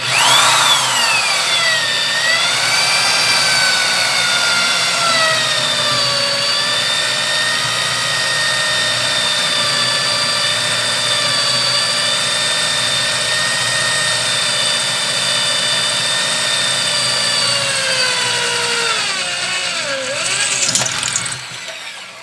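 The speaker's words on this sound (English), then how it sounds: "I'm ready to drill the last hole, which is the front hole" A sustained high-pitched whine of a drill boring through the metal receiver of a Type 81 light machine gun, pitch wavering as it strains, ending with a drop and clatter as it breaks through.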